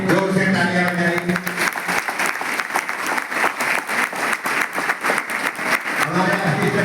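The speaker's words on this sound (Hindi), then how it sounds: "हमारे असिस्टेंट कमिश्नर साहब संजय राव साहब के लिए जोर से तालियां हो जाए।" Audience clapping at a public ceremony, a dense, loud round of applause that carries on steadily throughout with a crowd's patter of many hands.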